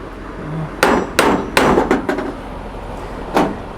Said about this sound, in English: Let me try to just wallop it from the backside a little bit with a hammer here